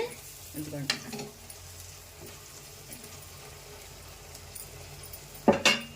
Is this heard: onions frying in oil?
yes